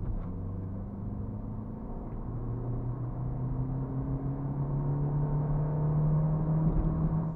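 Car cornering through a tight, sharp bend at about 80 km/h, a steady engine drone with a rising tonal whine and road rumble, continuous and close, with no talk.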